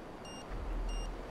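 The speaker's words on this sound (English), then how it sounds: "Why am I beeping still?" Short electronic beeps from GTA Online, two brief high-pitched warning tones about half a second apart, faint over a low game rumble with no talking.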